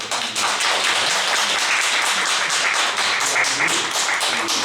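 A church congregation applauds steadily, the dense clapping filling the room evenly from start to finish with no voices over it.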